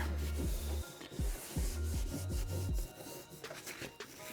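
Hand rubbing and smoothing sticky trim material onto a Proton Satria GTi door panel gives close, scratchy friction strokes with short squeaky drags, alone without talk.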